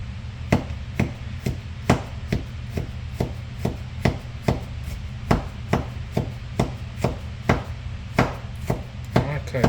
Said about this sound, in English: I cut this garlic so fine it might turn into a paste.